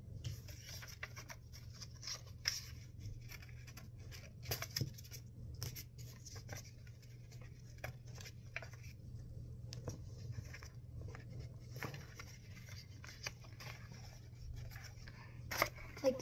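Paper box cutout for a farm animal model being folded along dotted lines, with scattered soft creases, rustles and crinkles over a low steady hum, close and fairly quiet.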